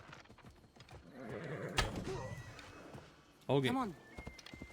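A horse whinnies twice with a loud, rising neigh and clip-clops along in Assassin's Creed Odyssey, with someone talking briefly over the hooves.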